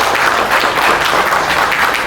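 A live audience applauds to welcome a singer at a birthday tribute event, dense continuous clapping that stays loud and steady, close and without speech over it.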